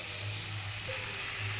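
Moong dal fries in a pan with a soft, steady sizzle and faint stirring, quiet and close.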